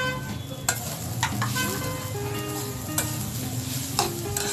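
Grated coconut being cooked with sugar in a pan for naru, a sweet made with coconut and nuts, giving a continuous sizzle with scraping stirring strokes and a few clinks of the spoon, close up, while a faint tonal hum runs underneath.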